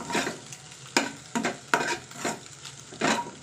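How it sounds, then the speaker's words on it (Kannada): Egg rice frying in a pan, with a continuous sizzle and repeated scraping stirs of a spatula, several distinct strokes in quick succession, close up with no talking. "ಸೊ ಹಂಗಾಗಿ ನಾನು ಇದರಲ್ಲೇ ಫ್ರೈ ಮಾಡ್ಕೊತಾ ಇದ್ದೀನಿ"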